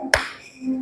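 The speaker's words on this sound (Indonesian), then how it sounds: "Sekarang tepuk 3." A single sharp hand clap close by, part of a classroom clapping routine, with a low hum continuing after it.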